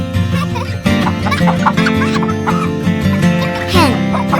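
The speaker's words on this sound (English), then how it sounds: "What does a chicken do?" Hens clucking in a lively farmyard, a string of close, repeated clucks and squawks over steady music with no talk.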